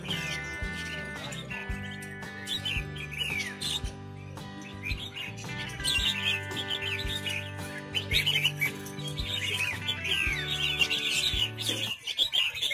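Red-whiskered bulbuls sing in a busy market, their bright chirping phrases repeating over a steady mix of other caged birds and crowd bustle, with no talk over them until a clatter near the end.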